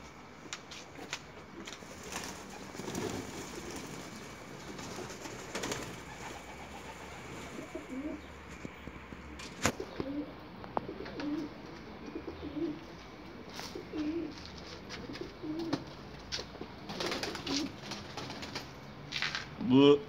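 Classic hünkar pigeons coo softly and repeatedly at close range, with rustling and a few wing flaps, while a person speaks intermittently over the birds.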